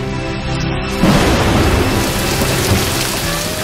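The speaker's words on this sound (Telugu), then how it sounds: "నగరంలో 2 రోజుల నుండి భారీ వర్షాలు కురుస్తున్నాయి." Heavy city rain during a thunderstorm, a dense steady downpour hiss with a deep thunder rumble swelling in after a quiet start and holding loud to the end.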